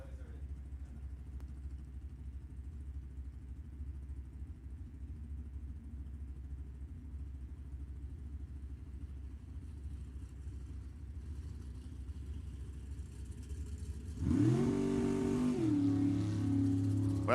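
A Super Gas drag racing car, driven by Bob Heffley at the Pacific National Open, rumbles low and steady, then bursts into a loud climbing engine roar as it launches. Voices may sit faintly beneath the engine.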